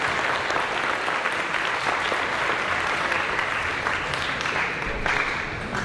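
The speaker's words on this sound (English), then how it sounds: "Could we please get a big round of applause for all of our speakers?" An audience at a school career expo gives a big, sustained round of applause for the speakers, dense continuous clapping from many hands at steady loudness throughout.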